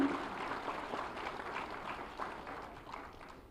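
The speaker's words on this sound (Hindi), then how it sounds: "जोरदार तालियां सभी के लिए, उज्जवल भविष्य के लिए" Faint, moderately distant applause from an audience at a government ceremony handing appointment letters to newly selected naib tehsildars, steady clapping that slowly fades.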